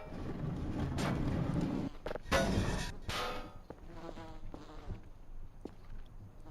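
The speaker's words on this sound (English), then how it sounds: "It's a bee noise." Swarm of bees in the game Voices of the Void, making a close, dense buzzing drone that swells and cuts out with scattered clicks and knocks, then thins to a faint hum.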